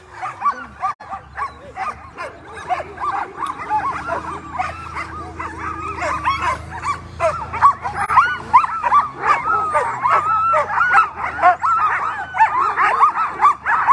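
An Alaskan husky sled dog team at the start line of a 150-mile mid-distance race in Willow, barking, yipping and whining together in an excited, steadily rising chorus.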